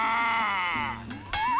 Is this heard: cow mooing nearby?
yes